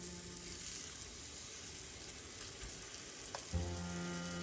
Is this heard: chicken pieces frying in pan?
yes